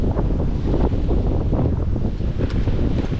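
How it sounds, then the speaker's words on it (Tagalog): Strong wind buffets the microphone during a river crossing, a loud, steady roar with low rumbling gusts and no voices. "Palakas ang hangin lang."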